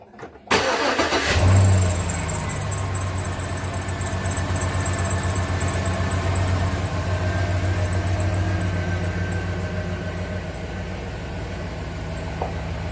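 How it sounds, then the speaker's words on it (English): A truck fitted with new tires starts up after a short quiet moment, then settles into a steady, close, rumbling idle and pulls out, the engine drone continuing throughout. "I'm going to go ahead and pull out the truck"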